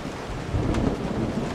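A thunderstorm in Resident Evil 7 rumbles with a low roll of thunder over steady heavy rain, with a brief crack partway through and no talk.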